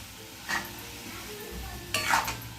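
Bell peppers and spring onion greens being stirred in a cooking pot with a spoon, heard as two brief scraping, clinking bursts over a low, steady background.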